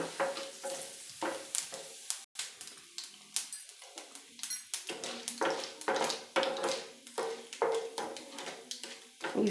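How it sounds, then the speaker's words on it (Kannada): Urad dal and cumin seeds sizzling and popping in hot oil, crackling steadily with small bursts as a spoon stirs through the pan, close up with no talking. "ಉದ್ದಿನಬೇಳೆ ಒಂದು ಸ್ಪೂನ್ ಹಾಕ್ತಾಯಿದ್ದೀನಿ"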